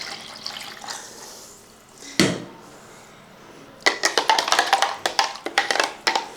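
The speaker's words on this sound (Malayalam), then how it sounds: "ഈ ജാറിനകത്തോട്ട് നമുക്ക് ഒരല്പം വെള്ളം ഒഴിച്ച്" Water is poured into a jar already holding prepared ingredients for a Kerala sardine dish. A single splash comes first, then a run of choppy, close pouring and splashing, with no voices.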